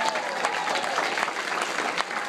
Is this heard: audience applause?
yes